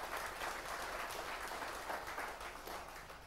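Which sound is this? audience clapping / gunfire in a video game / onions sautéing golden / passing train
audience clapping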